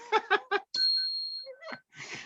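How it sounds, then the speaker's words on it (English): A bell in a coin shop rings once with a clear, sustained metallic tone that fades out, following a few short bursts of laughter, with voices close by. "The bell scared me."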